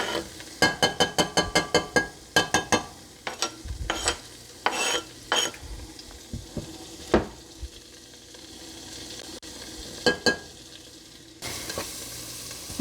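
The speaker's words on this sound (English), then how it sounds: "So we'll put the onion in here to saute." Onion sautés in melted butter in a pot, a quiet close sizzle broken by bursts of rapid scraping and stirring strokes, then slower occasional clinks and stirs.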